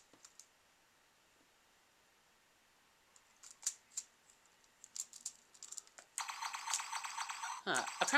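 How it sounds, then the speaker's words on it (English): Small plastic clicks and snaps from a Takara Transformers Armada Starscream toy as the spring-loaded Swindle figure clamps and locks into place, sparse at first, then a burst of louder rustling handling noise near the end. "Apparently there are two locks here, which are supposed to make Swindle snap in place"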